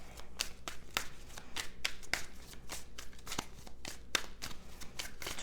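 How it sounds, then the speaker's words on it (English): A deck of tarot cards is shuffled over and over, giving quiet, close, rhythmic papery riffles and taps in a steady series of short bursts. "Shuffle a bunch of times and we'll get some cards out."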